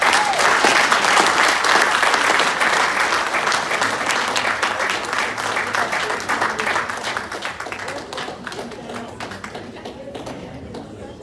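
Audience applause at a Zimbabwe diaspora property showcase in the UK: dense, sustained clapping from a sizeable crowd, loud at first and gradually thinning toward the end.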